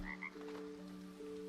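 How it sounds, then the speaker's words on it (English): A cartoonish frog croaks in a cosy gardening video game, the croaks layered over a steady game music bed and repeating briefly across the short stretch. "Froggy, I hear you"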